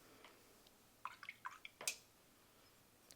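Small drops of water tapping onto a watercolor palette while painting, a quick cluster of light, close drips in the middle of an otherwise quiet moment.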